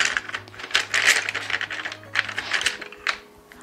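Pastel colored pencils fall and clatter onto a hard surface, giving a cluster of sharp, bright clicks and rattles close by, then a few scattered taps trailing off.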